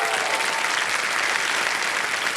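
Studio audience at a televised quiz show clapping, a dense, even burst of applause from many hands, loud and sustained throughout.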